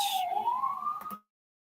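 A wailing siren sweeps upward in pitch, fairly faint and distant, then cuts off abruptly, leaving silence.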